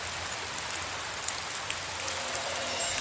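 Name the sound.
rain falling on a rooftop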